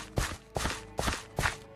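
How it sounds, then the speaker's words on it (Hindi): Four evenly spaced footsteps behind the player in Minecraft, crisp and fairly close, sounding alone without talk. "तभी उसने अपने पीछे किसी के पैरों की आवाज सुनी।"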